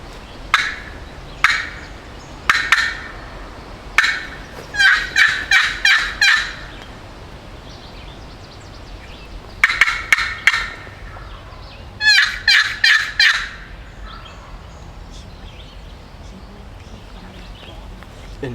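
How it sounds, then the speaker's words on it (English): A wild turkey gobbles repeatedly in a Pennsylvania field during spring turkey season, rapid rattling calls in several bursts at moderate distance, with wind and faint outdoor background. "There's a turkey over here"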